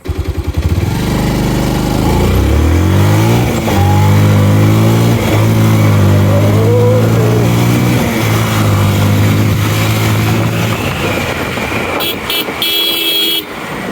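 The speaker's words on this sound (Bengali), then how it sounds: "বাজাজ পালসার ওয়ান ফিফটি এটা একমাত্র বাইক আচ্ছা চলেন একটা টান দিয়েছি ছোটো করে" A Bajaj Pulser 150 motorcycle engine revs loudly and close for about twelve seconds. Its pitch repeatedly climbs and falls through several throttle pulls before dropping off near the end.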